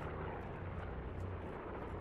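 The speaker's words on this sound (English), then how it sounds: "the plane is so loud that I don't think people can actually hear footsteps too much" Loud, steady drone of an airplane engine in Call of Duty Blackout, a continuous close rumble filling the whole moment without any talk.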